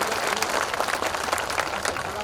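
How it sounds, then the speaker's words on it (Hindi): A crowd at a political rally in Gonda applauds to welcome Paras Mishra, dense sustained clapping that stays loud and steady for a couple of seconds. "जोरदार ताली बजा करके पारस मिश्रा का स्वागत करिए।"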